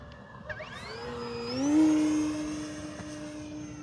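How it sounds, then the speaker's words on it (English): A Kavan Pulse 2200 V2 RC power glider's electric motor drones overhead in a steady tone that swells and rises in pitch as it passes near, then holds a level whine as it flies on. "Great power glider to kick around the sky."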